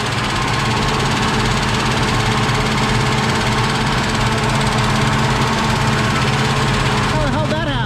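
A 1965 Ford Mustang barn find with a V8 engine running after revival: a loud, steady, rumbling idle with rhythmic ticking lifter noise, close up throughout, with voices talking faintly underneath.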